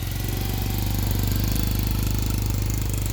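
A 2020 Vader Gen2 engine running just after a push-button start with no choke, close and loud, with a fast, steady, rattling idle thump throughout and no talking.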